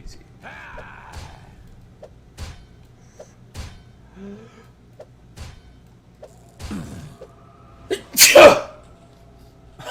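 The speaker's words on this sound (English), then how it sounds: "That was a big sneeze." A single loud human sneeze bursts out near the end, standing well above quieter room noise, scattered knocks and faint speech-like sounds earlier.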